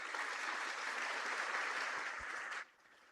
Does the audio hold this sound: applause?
yes